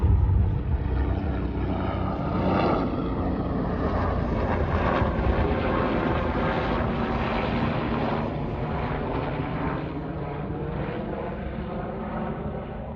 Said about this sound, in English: Here comes the helicopter.